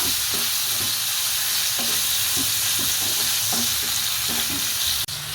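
Steady sizzling of food frying in a pan, with intermittent scraping clicks of a utensil stirring throughout; close and continuous, no voices.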